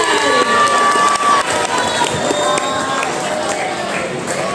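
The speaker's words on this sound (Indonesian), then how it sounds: "Berikan tepuk tangan untuk Kak Predistian" Students and guests at an entrepreneurship workshop in a junior high school in Tangerang Selatan welcome a speaker with a dense, steady wash of clapping and cheering, voices shouting over it throughout.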